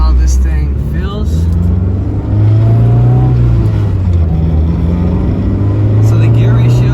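A Honda Civic with a D15B engine drives on the road, its engine droning loudly and steadily close-up, rising in pitch as it pulls, with someone talking over it.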